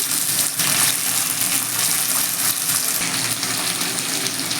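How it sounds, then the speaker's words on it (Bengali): Onion, ginger, garlic and tomato frying lightly together in a pan while making dal fry, a steady loud hiss and sizzle that continues without a break, heard close up. "পেঁয়াজ আদা রসুন সব একসাথে একটু হালকা করে ভেজে নিচ্ছি"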